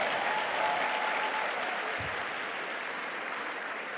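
An audience at a teachers' engagement session applauds in a steady, dense wash of clapping that holds evenly throughout with a faint low thump near the middle.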